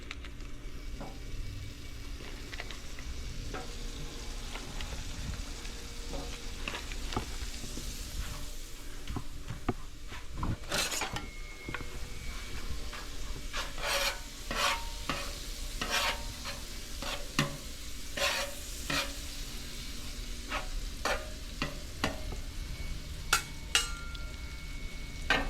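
Butter melting on a hot griddle, a faint steady sizzle with sharp clicks and utensil taps scattered across the long stretch, no talking.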